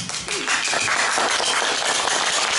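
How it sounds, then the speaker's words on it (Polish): Audience applause at a school art-group presentation during a first-year welcome event, a dense, steady wash of many hands clapping throughout with a brief faint voice at the start. "Wielkie brawa!"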